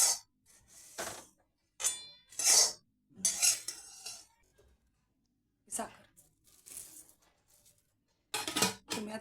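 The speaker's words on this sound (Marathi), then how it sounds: "उरलेल्या अर्धा किलो चिरमुऱ्यात आम्ही मिक्स करणार आहे हाताने चांगलं मग एकजीव करून घ्यायचं" Puffed rice being mixed by hand with salt and sugar for a Maharashtrian chivda, giving bursts of dry crinkly rustling and light clinking in uneven handfuls, close and moderately loud with pauses between.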